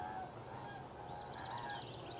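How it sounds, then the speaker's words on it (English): A large crane flies overhead, its honking, goose-like calls repeating in a loose series at moderate distance over a steady low outdoor rumble, with no talking. "got distracted by a crane that was flying over"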